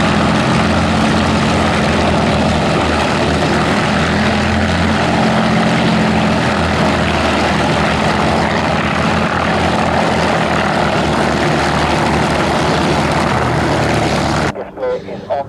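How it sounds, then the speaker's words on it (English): A Grumman FM-2 Wildcat propeller fighter roars past in a loud, sustained engine drone at an air display, with a commentator talking over it before the sound cuts off abruptly near the end. "And now running in then from our left to depict the Fleet Air Arms part in D-Day, the Fighter Collection's Grumman FM-2 Wildcat."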